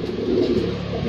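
Pigeons coo steadily and fairly close in a low, continuous warble, with no talk over them.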